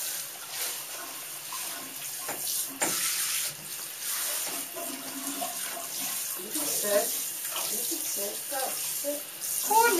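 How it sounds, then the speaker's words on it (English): Water running and splashing as a Cairn Terrier is rinsed off during a bath, a steady hissing spray that continues throughout while a voice talks intermittently nearby. "Now we get you all rinsed off and then you are done."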